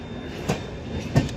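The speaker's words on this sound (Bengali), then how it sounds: "এখন আমাদের ট্রেন ঢুকছে বারেলি জাংশন" A train pulls into Bareilly Junction with a low, continuous rumble, broken by two distinct wheel thumps over rail joints about two-thirds of a second apart.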